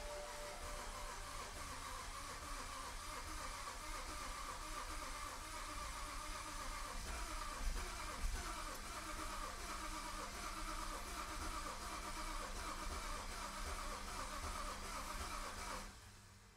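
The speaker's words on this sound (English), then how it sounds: "we get to try to start this car" A twin-turbo BMW E90 335i N54 engine cranks and turns over repeatedly at a low level, struggling to catch, with a steady mechanical churn that stops abruptly at the end.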